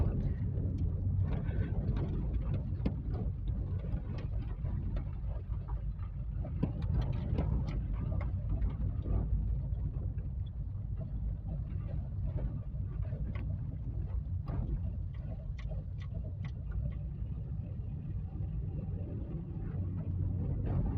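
A car drives along a main road on a town driving-exam route, with a steady low engine and road rumble and light wind noise, close and continuous, broken by occasional small knocks.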